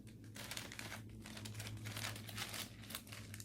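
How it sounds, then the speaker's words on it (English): A plastic poly mailer bag crinkles steadily as an item is slipped inside for shipping, with close, continuous rustling that rises and falls in dense bursts throughout. "I stick it in my poly bag."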